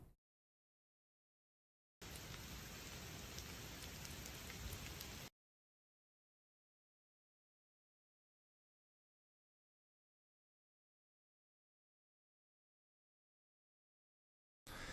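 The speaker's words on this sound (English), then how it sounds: "Here's the hail in Killeen." Hail from a severe thunderstorm in Killeen pelts down as a dense, steady roar of impacts lasting about three seconds, then cuts to silence, with no voices.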